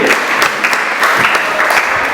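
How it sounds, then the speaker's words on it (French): Clapping from the audience at a diploma ceremony, loud and close, with individual claps standing out in an uneven rhythm across the short burst. "On peut l'applaudir quand même, même si elle est empêchée."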